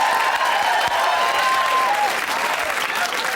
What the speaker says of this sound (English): Let's have a big round of applause for the Victorian Terrace House.